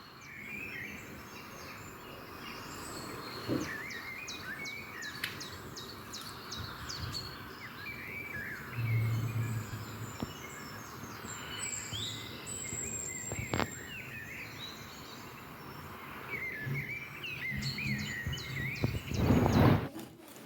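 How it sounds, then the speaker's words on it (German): Birds sing and chirp intermittently in a spring garden, with several high calls scattered over faint steady background noise and occasional soft knocks. The birdsong is moderately distant and fairly quiet. "den Gesang der Vögel zu hören"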